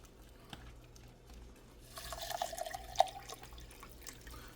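Water trickles faintly into a pouch of Polish military ration isotonic drink mix, a quiet pour of about two seconds with a few small splashes over a near-silent room.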